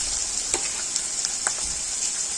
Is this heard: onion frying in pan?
yes